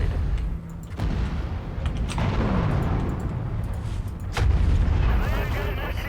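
Artillery fire in the MechWarrior 5 video game, booming blasts over continuous rumbling battle noise, with a heavy impact near the middle and another louder burst toward the end.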